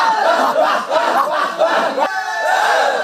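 Festival crowd at a Kalasha temple celebration in Nileshwaram, Kerala, raising loud, continuous massed shouts and cheers that rise and fall in waves close by throughout.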